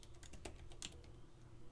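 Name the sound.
typing on a computer keyboard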